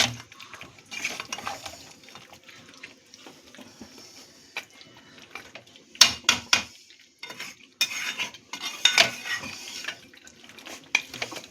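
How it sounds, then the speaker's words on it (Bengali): Mutton curry with ground spices being stirred in a pot, a utensil scraping and clanking against metal in irregular bursts, close by, with louder knocks near the middle and end and no talking. "আমি আবার সব মিশিয়ে দিচ্ছি।"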